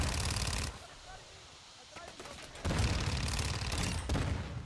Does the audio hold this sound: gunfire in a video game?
yes